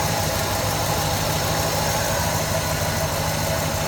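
A 1970 Pontiac GTO idles steadily with a dense, even rumble and a faint knocking texture, heard up close with no talking over it.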